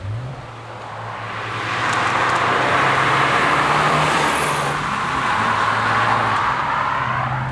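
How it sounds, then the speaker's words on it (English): Turbocharged engine and exhaust of a 2019 Fiat 124 Abarth roadster driven top-down at low RPM, a steady low drone with a faint airy turbo whoosh above it, continuous and moderately loud with no talk. "you hear a little bit of turbo spool through the exhaust up front"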